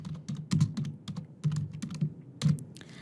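Fingers type on a computer keyboard, a quick close run of clicking keystrokes in uneven bursts, with no talking.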